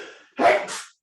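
A single loud, close sneeze bursts out during a math lecture in a quiet classroom, preceded by a faint trailing voice.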